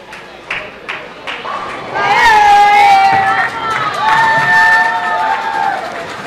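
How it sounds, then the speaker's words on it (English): Off-camera crowd cheering breaks out after a strike at a women's team bowling championship in a bowling alley, a loud burst of shouts and whoops rising over steady lane noise, with people talking nearby throughout. "You hear the cheering strike off camera for Christy Lopez for Puerto Rico."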